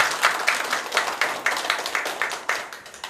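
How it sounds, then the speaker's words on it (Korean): Audience in a library lecture hall claps together in steady, evenly spaced bursts, a moderate round of applause that carries on without talk. "다 같이 박수 한번 칠까요?"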